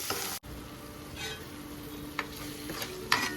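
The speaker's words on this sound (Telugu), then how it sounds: "టమాటా వేసిన తర్వాత కలిపి ఒక నిమిషం అవి మగ్గే వరకు మూత పెట్టుకోవాలి" Tomato pieces being stirred into an egg curry in a pan, with soft scraping spoon strokes over a quiet sizzle and a couple of brief clinks, close and alone.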